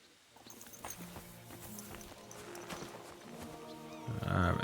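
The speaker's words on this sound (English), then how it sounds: "All right, horse riding." Horse hooves clop at a steady riding pace in the Kingdom Come Deliverance 2 video game, a moderately close rhythmic patter over ambient game sound, with a louder low rumble rising at the end.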